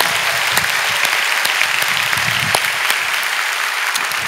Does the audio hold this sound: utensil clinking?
no